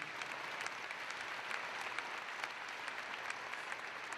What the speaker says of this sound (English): the round of applause for the courage she has to speak as she sees it